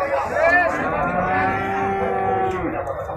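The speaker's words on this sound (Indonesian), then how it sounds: "kita ada satu ekor yang simental Marlboro ya" Simmental Marlboro cattle lowing in a single long, loud moo that carries through most of the moment, with a harmonic-rich, wavering pitch; no talk.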